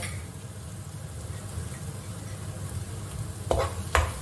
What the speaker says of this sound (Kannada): ಈ ಫ್ರೈ ಆಗಿರೋ ಮಸಾಲೆಗೆ ಬುರ್ಜಿ ಹಾಕಿಬಿಟ್ಟು ಬುರ್ಜಿ ಹಾಕ್ತಾ ಇದ್ದೀನಿ ಈಗ